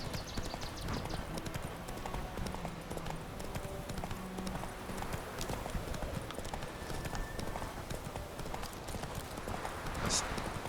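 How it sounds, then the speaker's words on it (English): Horse hooves galloping steadily in The Witcher 3, a rapid continuous clip-clop that runs through the whole stretch at close range, with game ambience and other effects layered around it. "Giddy up. Damn it, Roach"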